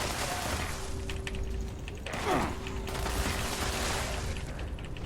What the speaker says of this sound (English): God, this takes forever to reload.